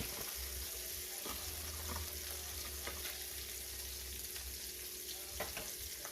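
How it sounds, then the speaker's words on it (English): Margarine melts and sizzles in a hot pan alongside a ribeye steak, a steady close frying hiss with a few soft clinks. "We're gonna allow that to melt"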